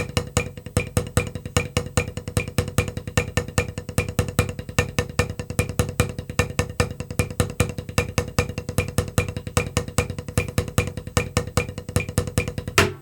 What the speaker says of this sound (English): the triple paradiddle will have 3 accents per hand